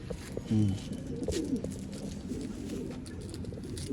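Pigeons at a Bangalore pigeon sale, kept as breeding pairs, give a few soft, low, throaty coos close by, under quiet background chatter and ambient noise.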